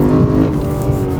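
A Lexus RC F Track Edition, rear-wheel drive, pulls hard under acceleration, its engine giving a loud, close, sustained harmonic drone with no talk over it.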